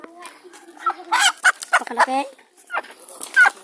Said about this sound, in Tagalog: Yung ang nahuli namin manok.